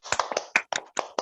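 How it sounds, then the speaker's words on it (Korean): A few people clap in thanks after a church Wednesday lecture on panic disorder, about eight distinct, fairly close claps with uneven timing and no voices over them. "우리 수고하신 명설아 사모님께 다시 한번 감사의 박수"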